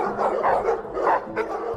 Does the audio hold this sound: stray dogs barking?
yes